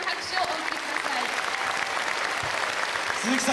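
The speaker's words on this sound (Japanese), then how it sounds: "どうぞもう一度大きな拍手をお送りください。" Audience applause at a Tokyo welcome concert for Nelson Mandela, honoring his personal physician; steady, dense clapping fills the hall throughout, with a voice briefly audible over it.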